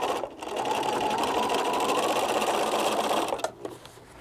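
A sewing machine runs steadily for about three seconds, top stitching around the inside of a Japanese knot bag, with brief pauses before and after the continuous whirring run.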